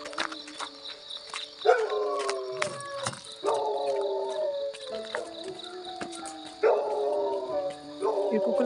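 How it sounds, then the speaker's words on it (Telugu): Several dogs bark and howl at a hillside resort in Sakleshpur on a foggy early morning, drawn-out yelping calls repeating at moderate distance over a faint background. "అక్కడ కుక్కలు మాట్లాడుతున్నారు"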